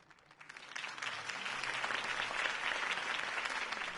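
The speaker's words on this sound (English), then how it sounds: "could have heard that applause" A crowd bursts into applause after a campaign speech in the Batman Telltale Series video game; the clapping swells within the first second and then holds as a steady, dense ovation.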